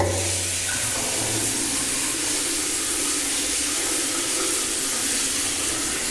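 Tap water runs steadily into a bathroom washbasin fitted with a new push-to-close pop-up drain plug, a continuous close rushing splash lasting about six seconds with no voices.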